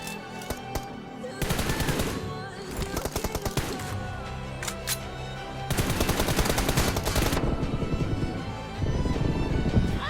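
Automatic weapon fire in PUBG Mobile rattles loud and close in repeated rapid bursts with short gaps between them.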